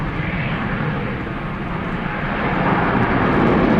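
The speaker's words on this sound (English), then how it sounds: "I'm going to go quiet and let you enjoy the F-22 Raptor" A US Air Force F-22 Raptor jet gives a loud, broad, rushing roar that swells slightly toward the end, heard alone without voices.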